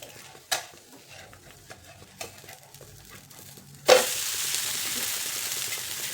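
A cabbage and poha thalipeeth is flipped in a pan over a low flame: a few soft scrapes and taps, then a sudden loud, steady sizzle of frying that continues to the end.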